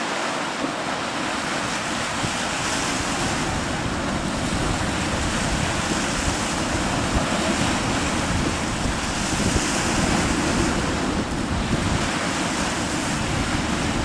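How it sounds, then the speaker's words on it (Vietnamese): Strong wind and heavy ocean waves buffet a fishing boat out at sea, a loud, continuous roar of surf and gusting wind across the microphone, with no voices. "Sóng gió bất thường lắm,"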